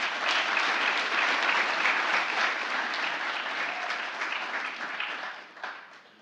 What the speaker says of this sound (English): another round of applause for our graduates